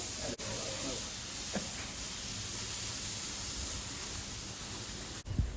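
Burgers sizzle on a backyard grill with a steady, close hiss, broken by a couple of faint knocks from the burgers being flipped.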